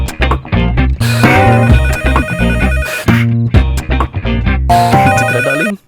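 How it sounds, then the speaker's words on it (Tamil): A telephone rings loudly in repeated bursts over a busy musical score in a Tamil horror film scene, with each ring pattern cycling several times and no voices. "தேங்க் காட் நமக்காகவே இந்த நேரம் பார்த்து எவனோ ஒருத்த ஃபோன் பண்றான்"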